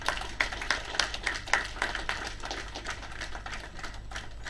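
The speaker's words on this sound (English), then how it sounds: "Huge round of applause for them." Quick, uneven bursts of clapping from a crowd rattle on for several seconds, sharp and dense, with no voices over them.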